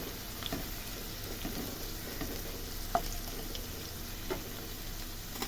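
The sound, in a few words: dried red chillies frying in oil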